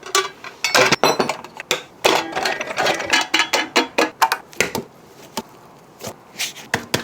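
Sausage stuffer pushing seasoned meat into thin 28mm casings, giving a close run of irregular mechanical ratcheting clicks and gear-like clatter with brief pauses, no voices.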